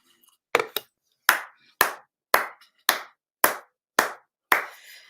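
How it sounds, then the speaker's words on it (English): One pair of hands claps nine times, sharp and close with short echoing tails. The claps come at a slow, fairly even pace, with a quick double clap near the start, and no other sound between them. "And then Sid hears clapping."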